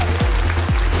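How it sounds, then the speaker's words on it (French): An indoor audience claps loudly for the leisure podium at a karting endurance cup prize ceremony, with dense, steady clapping and a low hum underneath throughout. "Messieurs, dames, on peut les applaudir bien fort."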